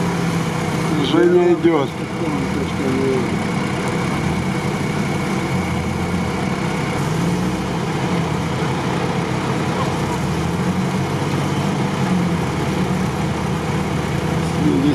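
Someone's scooter rumbles past during an off-road outing, a steady low engine drone that holds throughout while people talk over it.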